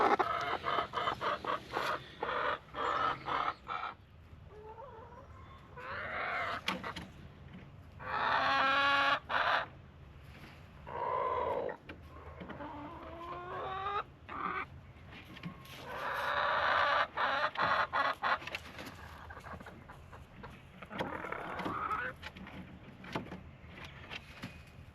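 Easter egger hens and a rooster in a backyard flock cluck and squawk in scattered bursts, some calls close and loud, others fainter, with short quiet gaps between outbursts.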